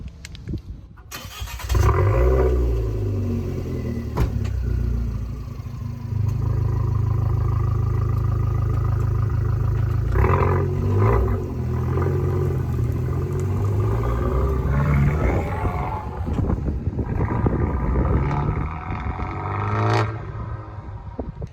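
A Fiat Abarth engine with muffler and resonator deleted starts with a sharp burst, then idles with a loud, raspy exhaust rumble, blipped and revved several times in throaty surges.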